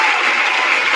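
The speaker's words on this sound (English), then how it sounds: "Give her a round of applause for that." A dense burst of audience applause, many hands clapping together in a steady, loud wash of noise filling the short moment without a pause.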